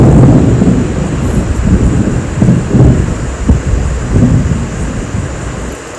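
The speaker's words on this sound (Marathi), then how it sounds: "किती जोरात पाऊस पडतो तुम्ही बघू शकता का" Heavy monsoon rain pours down with deep rumbling thunder, a loud dense roar with rolling low booms and wind buffeting the microphone.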